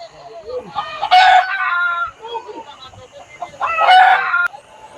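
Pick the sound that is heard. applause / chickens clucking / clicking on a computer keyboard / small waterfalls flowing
chickens clucking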